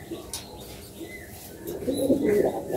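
A domestic pigeon, one of a paired adult couple of high-quality flying birds, gives a soft, low, throaty coo close by, swelling near the end against a quiet room background.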